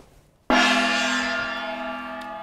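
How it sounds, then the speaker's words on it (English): A single gong struck once after a brief quiet moment, ringing loud and close with a bright metallic shimmer that decays slowly and keeps sustaining to the end. "Another gong?"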